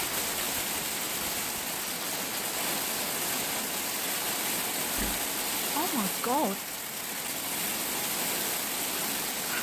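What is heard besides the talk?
hail falling in June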